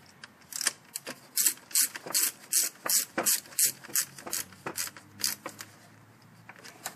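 A ratchet tightens the throttle body bolts on a 4-cylinder Ford Focus or Escape engine, giving a near, steady run of quick clicking bursts that slow and thin out toward the end, with no talking.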